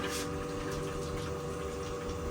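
An espresso machine flushes water through its group head in a café, a steady rushing pump and water hiss filling the short moment.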